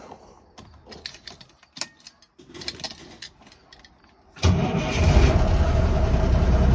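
An old Cummins diesel in a classic cab-over semi truck, ready to back under a trailer, roars loudly to life after several seconds of faint clicks and knocks, then holds a steady, rumbling idle.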